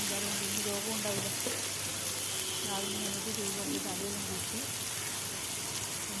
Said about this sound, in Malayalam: പച്ചമുളക് അരിഞ്ഞിട്ട് നമുക്കൊന്ന് ഇളക്കി കൊടുക്കാം